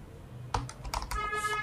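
Computer keyboard typing, a short burst of several quick, crisp key clicks close up after a brief quiet moment, alone without talk.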